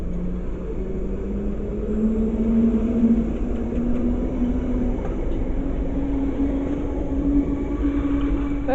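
A London Underground Bakerloo Line train rumbles steadily nearby as it departs the platform at North Wembley station, its motor pitch slowly rising as it pulls away, with a continuous loud roar of wheels and machinery throughout.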